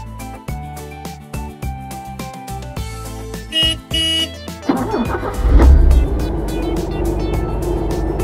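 A cartoon UAZ car drives with a loud engine rumble that swells in after a stretch of bright musical tones, then holds as a steady roar to the end.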